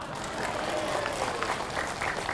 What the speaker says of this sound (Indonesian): Jangan asal tepuk tangan aja.